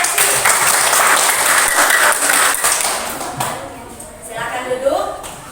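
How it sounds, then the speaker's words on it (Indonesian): Audience applause in a classroom fills the first few seconds loud and dense, then fades, with a voice speaking as the clapping dies away. "Kita beri tepuk apresiasi."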